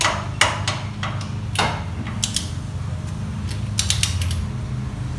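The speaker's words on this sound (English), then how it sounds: "I'm just going to tighten her back up. Again with our 18mm socket." Tightening front brake bolts on a Chevy Silverado or GMC Sierra with an 18mm socket wrench, heard as several sharp ratcheting creaks and clicks in short bursts close by over a low steady hum, with no talk.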